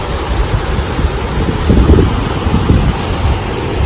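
Ocean surf rolling onto a beach at high tide, the water reaching up to the rocks, heard as a loud continuous wash with heavy wind rumble buffeting the microphone and a few surging swells.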